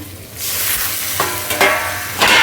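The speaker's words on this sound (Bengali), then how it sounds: "পেঁয়াজটা বেশি ভাজে নিই একদম হালকা করে ভেজে নিচ্ছি" Onions fry lightly in an oily pan for a mutton liver bhuna, making a close, steady sizzle broken by three sharp stirring scrapes. No voices.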